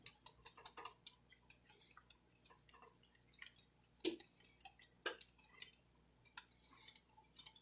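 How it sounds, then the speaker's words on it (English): Quiche filling whisked in a bowl, heard as quick, light, irregular clinks and ticks of a whisk against the bowl at close range with no voices, plus two sharper taps partway through. "And we'll whisk that in."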